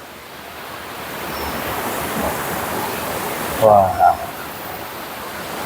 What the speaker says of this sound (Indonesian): Nih, gemercik airnya